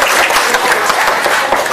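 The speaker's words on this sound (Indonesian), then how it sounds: "sekali lagi tepuk tangan" A crowd at an Isra Mi'raj commemoration event claps, producing a dense, steady wash of applause that stays loud and even throughout.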